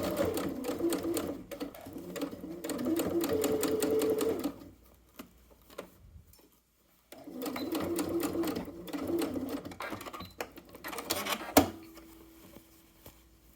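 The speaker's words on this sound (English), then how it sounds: "we pin together that lining sleeve opening and just stitch close to the edge to close it" A sewing machine stitches a jacket's lining sleeve opening closed in two steady, fast-rattling bursts separated by a brief quiet pause, ending with a few slower stitches and a faint hum, all close and clear.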